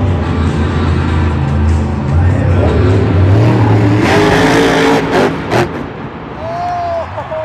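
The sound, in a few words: toy monster truck engine revving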